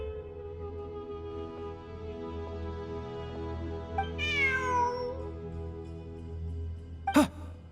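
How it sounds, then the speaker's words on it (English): Video game cat lets out a single drawn-out meow around the middle, with a brief sharp sound near the end, over a steady low hum of game ambience. "Look, a cat."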